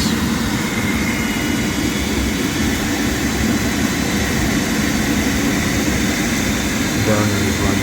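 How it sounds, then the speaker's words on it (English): Rinnai tankless on-demand water heater with its gas burner running on low fire, a steady, loud broadband roar and hum holding constant for the whole stretch. "Burner is running on low fire."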